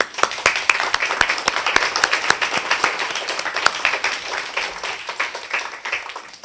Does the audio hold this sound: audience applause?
yes